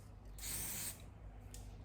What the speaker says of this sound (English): So I do use my Tresseme holding spray